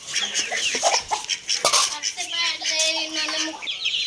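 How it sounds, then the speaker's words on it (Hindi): Chickens cluck and squawk busily nearby as they eat feed, including macaroni, with ducks also present; short irregular calls come in overlapping bursts and a higher drawn-out call near the end. "बड़े शौक से खाएंगी मुर्गियाँ और बतखें हमारी।"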